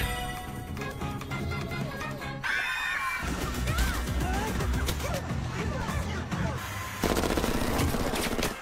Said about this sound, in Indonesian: satu pembunuh pun melepaskan tembakan membuat jendela pesawat bocor